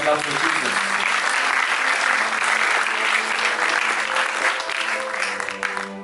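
A church congregation at a Sunday service bursts into sustained applause, dense and loud clapping with some crowd voices and instrumental tones beneath, slowly thinning toward the end.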